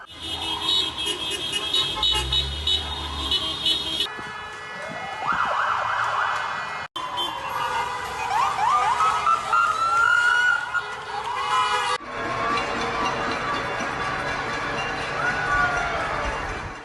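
Several emergency sirens from fire, RCMP and police vehicles wail and rise in overlapping tones, with horns tooting, loud and continuous as a parade passes near hospitals.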